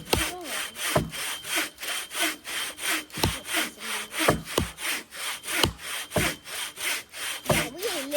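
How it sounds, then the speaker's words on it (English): A hand saw cuts through wood at a camp in the North Georgia woods, loud rhythmic rasping strokes repeating steadily about once a second, close and alone with no talking. "We're gonna saw a little bit."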